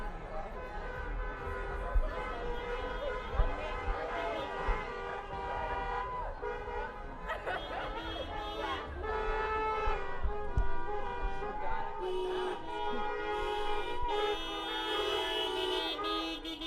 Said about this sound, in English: Beep, beep, beep, beep, beep, beep, beep.